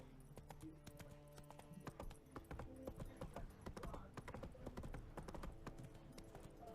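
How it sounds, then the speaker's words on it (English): Horse hooves clip-clop in a fast, steady gallop in The Witcher 3, quiet and continuous, with faint game ambience underneath. "இதுல ஹார்ஸுக்கு full upgrade பண்ணிட்டேன்"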